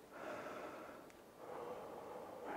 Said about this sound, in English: And try to relax and breathe in.